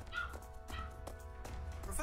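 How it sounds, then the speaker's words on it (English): A small old chihuahua gives a few short, yippy barks and whimpers, fairly close, over steady background sound from a Fire Emblem Three Houses game, with a person talking at the same time. "he's a very loud chihuahua. When he doesn't get enough attention, he just barks"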